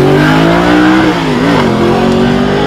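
A Lamborghini supercar with a V12 launches hard at a concours event, its engine roaring loud and rising steadily in pitch as it accelerates, heard alone from nearby.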